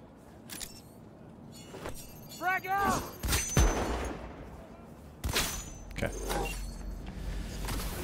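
Sniper fire in the video game Cyberpunk lands as several sharp gunshot cracks with brief shattering debris, scattered irregularly among game effects, with a voice briefly present.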